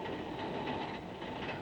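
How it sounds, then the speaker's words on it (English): A commuter train runs steadily at close range in a 1940s city setting, a continuous rumbling roar with faint rhythmic clatter and no voices. "A great many of these people make their daily trips by train."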